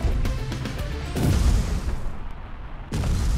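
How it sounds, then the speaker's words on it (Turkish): Booming explosions from the video game Mr. Shifty, a rapid crackle of blasts followed by a heavy rumbling boom that fades, then another burst. "Abi patlama efekti çok sıkıntılı"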